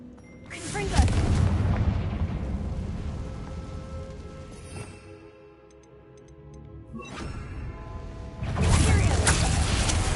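Two heavy, booming blasts of the Confringo fire spell in Hogwarts Legacy, one near the start and one near the end, each trailing into a rumbling roar over a steady game backdrop.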